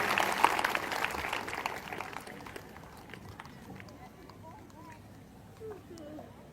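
A church congregation at a prayer and prophecy service claps in thanks, a dense, wash-like patter that swells at first and then gradually fades as voices continue.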